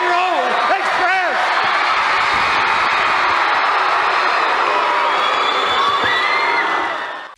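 A wrestling arena crowd at NWA Starrcade 1986 roars and cheers for tag team champions the Rock and Roll Express, a dense, steady wall of noise with whoops and shrill whistles rising out of it.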